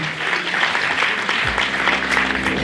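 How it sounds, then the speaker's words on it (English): An audience gives sustained, dense applause for an honoree at the Exceptional Women of Color awards ceremony, with clapping filling the room throughout. "Another round of applause for Miss Kancy McCarn."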